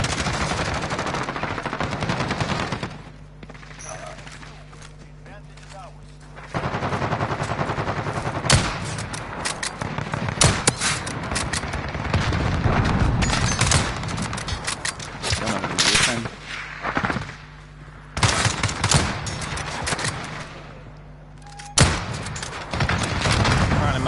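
Automatic gunfire in the Modern Warfare video game comes in rapid, loud bursts and repeated volleys, broken by short quieter gaps.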